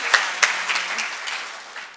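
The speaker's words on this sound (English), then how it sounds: "let's have a round of applause for Donna" An audience at a high school science day at the Salk Institute applauds the event's organizer, a brief burst of crowd clapping with a couple of sharp claps up front, fading gradually.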